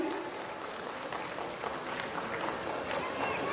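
Crowd applause at a Hindi poetry gathering (kavi sammelan) during the Shravasti Mahotsav festival: a steady, dense wash of clapping lasting the whole stretch, heard from some distance with no clear pauses.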